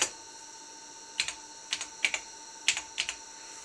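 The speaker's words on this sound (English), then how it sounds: "You can see when I'm hitting the keys," Keys on a computer keyboard hooked to a Raspberry Pi are tapped in a few short, quiet clusters of clicks, separated by pauses, in an otherwise still room.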